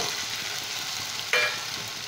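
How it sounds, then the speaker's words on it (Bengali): Cut potatoes go into cooked-down frying masala and get stirred, a soft continuous sizzle with a brief louder clatter and scrape partway through. "এখন আমি এর মধ্যে কেটে রাখা আলু দিয়ে দেবো"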